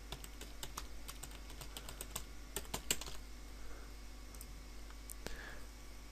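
Rapid, uneven keystrokes on a computer keyboard as an email address is typed, quiet and close against a low steady hum, with brief pauses between bursts of clicks.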